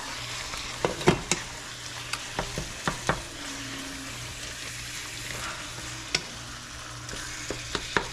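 Angus ground beef fries in its own fat for tacos, a low steady sizzle with scattered sharp scrapes and taps of a utensil stirring the pan, fairly close and quiet.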